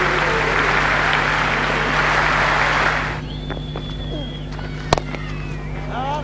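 A Test cricket crowd in Cape Town applauds a century, a dense wash of clapping for about three seconds that then drops away to quieter stadium ambience.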